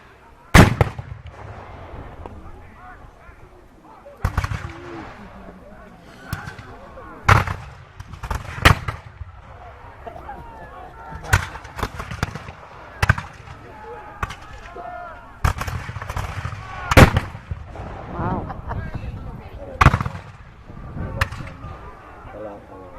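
Cannon blasts at a Battle of Fort George historical reenactment, about a dozen loud sharp booms spaced irregularly over a continuous outdoor rumble of crowd and distant activity.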